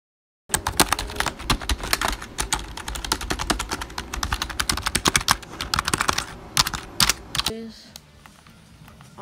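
Fast, loud clacking of computer keyboard keys fills the clip in dense bursts, close up, during Fortnite gameplay, then trails off into a quieter hum at the end.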